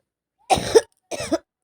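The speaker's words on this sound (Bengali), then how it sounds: "মাঝে মাঝে কাশি হয়ে যাচ্ছে কারণ আমার ঠান্ডা লেগে গেছে" Two short, harsh coughs from a person with a cold, in quick succession, close and clear against silence.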